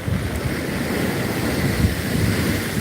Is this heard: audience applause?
no